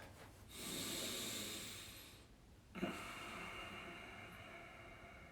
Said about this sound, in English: why don't we take a couple deep breaths?